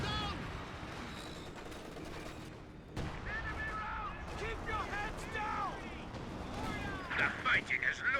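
Howitzer artillery barrage in the World War II strategy game Company of Heroes 2, a steady dense rumble of distant explosions and battle noise with sharper whistling bursts near the end, under ongoing commentary.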